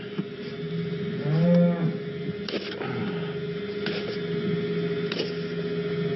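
Cows moo outdoors on open farm fields, one long, loud low call standing out clearly around the middle, with quieter lowing and faint farm ambience before and after.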